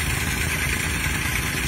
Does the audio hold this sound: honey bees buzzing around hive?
no